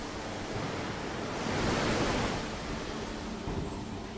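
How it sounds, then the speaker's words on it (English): Water sprayed at 160 bar onto hot steel to strip mill scale before rolling, a steady broad roaring hiss that swells slightly midway and continues without a break, with no voices. "In order to cleanse the surface, water is sprayed at high pressure,"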